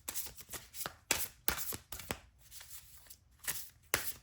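Tarot cards shuffled during a pick-a-card reading, giving a run of crisp riffling bursts and sharp slaps at an irregular rhythm, close and moderately loud, with no voices.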